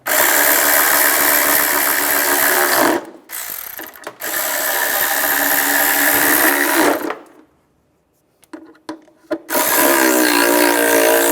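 A ratchet tightens exhaust manifold bolts on a 2007-2013 Mini Cooper during a manifold replacement, heard as loud, close bursts of rapid mechanical clicking separated by short pauses and a near-silent gap.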